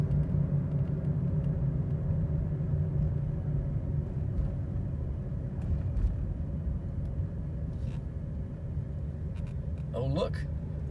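A Buick Century rolls slowly through a school zone, its engine and road noise forming a steady low rumble from inside the cabin, with a person talking over it.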